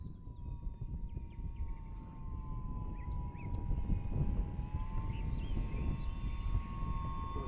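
An RC model Harrier jet flies overhead, giving a continuous whining engine drone with a steady high tone that swells a little as it draws nearer, heard alone outdoors with a constant low rumble beneath it.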